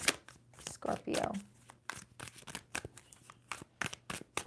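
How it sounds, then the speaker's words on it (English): A tarot deck is shuffled by hand in quick papery riffles and slaps, several short bursts close to the listener, with someone talking softly between them. "2 more shuffles for Scorpio."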